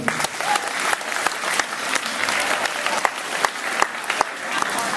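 Steady audience applause in a junior high school talent show crowd, dense clapping from many hands sustained throughout with scattered louder claps, close and full, with faint crowd murmur beneath.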